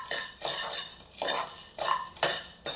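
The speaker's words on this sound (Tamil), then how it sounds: "இதுவும் சிம்மிலே தான் வறுத்துக்கணும்." Peanuts dry roasting in a pan over a low flame, giving repeated scraping, rattling and clinking bursts as they are stirred, close and moderately loud with no talking.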